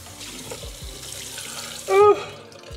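Tap water runs steadily for a few seconds while face cleanser is rinsed off, ending with a louder gush and splash as water is scooped or poured; no talking.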